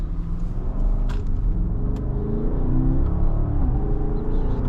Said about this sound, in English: Such effortless acceleration in this car.